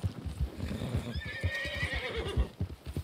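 A horse neighs in the Western game Red Dead Online, a long loud whinny over steady clip-clop hoofbeats that keep a trotting rhythm throughout.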